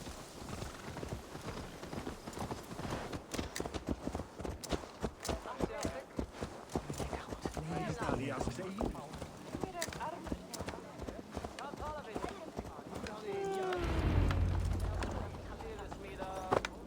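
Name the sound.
horse hooves clip-clopping in video game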